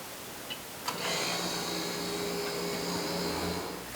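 Harvest Right freeze dryer starting its prep cycle: a faint click, then a steady, quiet mechanical whir and hum that settles into a constant drone.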